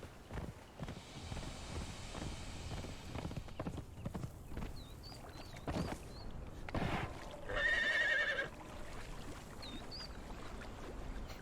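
Horse galloping in the video game Conan Exiles, rhythmic clip-clop hoofbeats throughout with splashing as it crosses a river and a brief whinny, moderately quiet.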